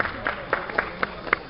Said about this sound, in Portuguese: salva de palmas essa minha amiga